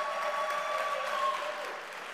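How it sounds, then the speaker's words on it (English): Audience applause at a live TV show for the World Bridge Federation 2021 event, a steady wash of clapping with some tonal hum underneath, holding evenly for a couple of seconds before easing slightly. "Come on, give us a little clap,"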